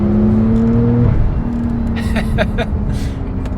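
A Porsche 911 Turbo S engine revs hard as it accelerates in third gear, a steady throaty drone rising and shifting in pitch, with brief faint voices partway through.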